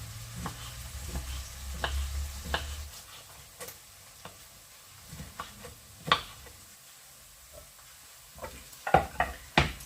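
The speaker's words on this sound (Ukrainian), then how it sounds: "Поки смажилась цибулька" Chopped onion frying in a pan, quiet crackling and sizzling with scattered pops and ticks, faint and close.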